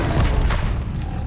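A levitation spell cast during Hogwarts Legacy gameplay on PS5 gives a dense, loud boom-like magical burst with a deep low-end thump, sustained for about a second.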